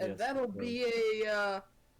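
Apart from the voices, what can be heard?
None of the usual background noises is heard.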